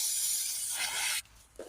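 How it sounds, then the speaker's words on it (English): A short, close burst of brake cleaner hisses onto the fill plug of a Volvo V70 2.0 five-cylinder automatic gearbox, then cuts off abruptly, followed by a brief soft clunk. "I'll just give it a little bit of a spray of brake cleaner just to get any dust off"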